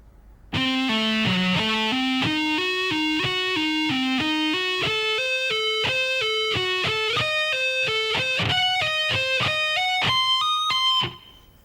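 A distorted electric guitar plays a lick slowly, a continuous run of single notes climbing step by step in pitch with hammer-ons and pull-offs, close and sustained, with no talking.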